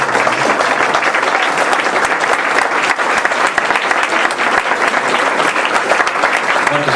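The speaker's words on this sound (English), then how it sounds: "You've been holding your applause. Let it loose." Sustained, dense applause from an audience at a congressional candidates debate in Petaluma, many hands clapping steadily and loudly for the whole stretch without pause.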